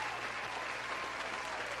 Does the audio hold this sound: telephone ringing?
no